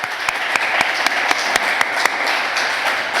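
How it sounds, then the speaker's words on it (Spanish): A crowd applauds a deputy (diputado) at a gathering, with a steady wash of clapping and a few sharp, close individual claps standing out, and no speech over it. "Vamos a darle un aplauso porque ha sido un aliado."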